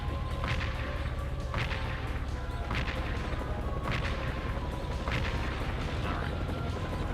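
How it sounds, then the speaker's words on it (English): Repeated explosions from area-of-effect attacks in the PS2 tank game Seek and Destroy, several muffled bursts spaced a second or so apart over a dense, steady rumble of engine and battle noise. "Those are just like area of effect explosions."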